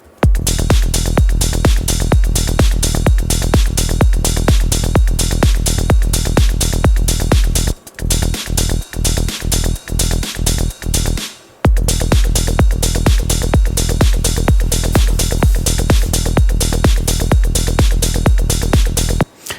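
Layered melodic techno drum loops with a steady four-on-the-floor kick and busy hats run loud and continuous, dropping to a sparser broken pattern midway before the full groove returns for an Afterlife-style track.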